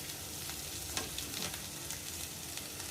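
Ingredients for a mango and tomato chutney with green chillies and curry leaves fry in a pan, giving a soft, fairly faint sizzle with a few scattered stirring knocks.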